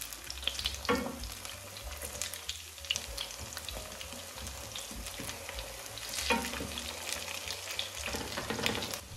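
Steady sizzling of cutlets frying in oil, with occasional crackles and pops throughout.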